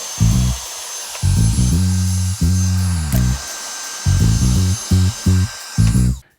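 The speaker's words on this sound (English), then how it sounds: "I have to drill through these" A power drill whirring in several short bursts while fitting a kitchen worktop in a van, speeding up and stopping repeatedly, close and loud with brief pauses between.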